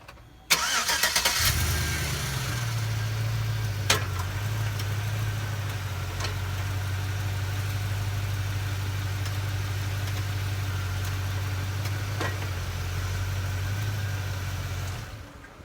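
A 1999-2006 GMT800 truck with a 4L60e transmission cranks and starts with a sharp burst. It then settles into a steady, low, rumbling idle that continues for many seconds, close and alone.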